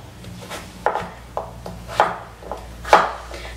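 A knife cuts through peeled butternut squash pieces on a cutting board, about eight crisp, separate chops at an uneven pace, close and clear with no talking.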